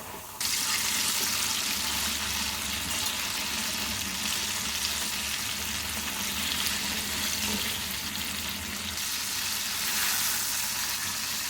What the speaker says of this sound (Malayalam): ഇനി ഇത് നമുക്ക് ചൂടായ എണ്ണയിലേക്ക് ഇട്ട് കൊടുക്കാം.